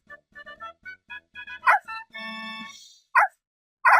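Cartoon puppies in a Dora the Explorer video game yip and bark in a quick series of short, bright bursts, followed by a sustained whimpering tone and two more sharp yelps, with no voices.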